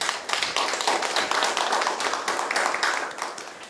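A forum audience at the Seoul Metropolitan Council, gathered to discuss peace tourism on the Korean Peninsula, breaks into loud, close applause that stays dense and sustained with no talking.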